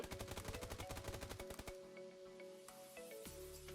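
Rapid automatic gunfire from the video game PUBG Lite rattles in a fast, even burst for under two seconds, followed by game ambience and tonal interface sounds, with no talking.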